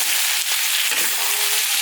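Chopped onion hits hot oil in a village kitchen pan, a loud, steady hiss of frying and sizzling with faint crackles and no voices.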